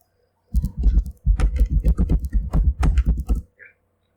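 A password is tapped out on a computer keyboard in a quick run of close, crisp keystrokes, with a short pause after the first few presses, then a last lone click.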